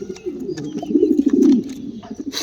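Racing pigeons cooing close by in a pigeon loft, a soft throaty rolling coo that swells and fades over a couple of seconds, with faint chirps and no speech.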